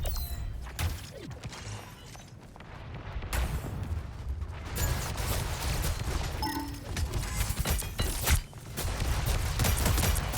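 Rapid bursts of gunfire and weapon effects from the Marvel Rivals video game, in a dense, loud mix of shots, mechanical clanks and impacts that continues without a break.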